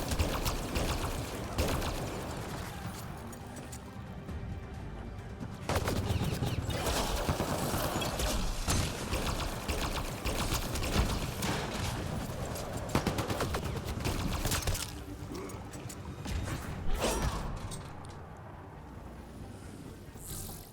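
Combat in Mass Effect Andromeda, with rapid bursts of gunfire and rattling automatic weapon shots repeating loudly over roughly twenty seconds amid a busy battle din.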